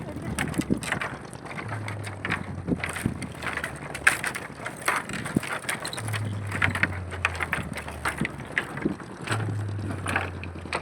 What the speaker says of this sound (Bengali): এত বোট যাচ্ছে কেন?